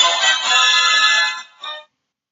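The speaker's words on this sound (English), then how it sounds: "Oh, phone's ringing." A phone rings with a bright electronic tone that holds steady, fades, gives one short final burst, then stops, loud and close with no talk over it.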